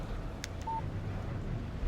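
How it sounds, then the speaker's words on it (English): A short phone text message alert in the Alan Wake Remastered video game: one brief clean electronic tone, faint, over steady low background ambience, with a quick click just before it. "Text message from Barry."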